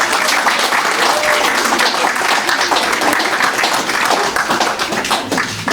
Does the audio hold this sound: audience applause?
yes